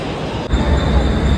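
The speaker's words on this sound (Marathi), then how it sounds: "ट्रेन आले आपली आता." A train pulling into a railway station, a loud, close, heavy rumble of rolling wheels and carriages that grows suddenly fuller partway through.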